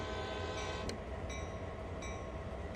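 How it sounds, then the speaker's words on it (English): Two horn blasts from a freight locomotive in a train simulator game on Xbox Series X, sounding over a steady rumbling engine drone, the first short and the second longer, fairly loud and without talk. "Let's ring our horn twice."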